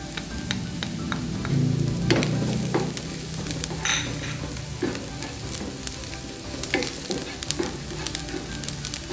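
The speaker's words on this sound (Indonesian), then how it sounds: "sudah harum bawang bombaynya kita masukkan bawang putihnya" Onion and garlic sizzle in a hot pan with butter, scraped and stirred by a utensil, with a steady frying crackle and occasional clinks.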